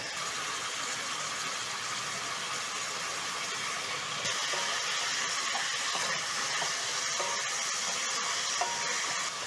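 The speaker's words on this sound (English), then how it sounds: "you're going to fry your liver in the cooking oil for around 2 to 4 minutes" Beef liver fries in cooking oil with a steady, dense sizzling hiss that keeps going without a break and gets slightly louder partway through, with no one talking.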